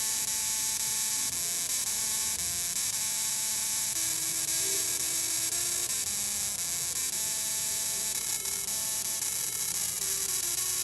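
A musical Tesla coil driven by a flyback transformer buzzes out a tune as a sequence of sustained electric tones at changing pitches, loud and steady with no talking.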